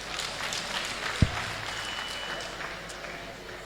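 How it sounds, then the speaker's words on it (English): Convocation audience at the University of Jos giving applause, a steady wash of clapping at moderate level with a brief sharp thump partway through and faint background voices. "A round of applause."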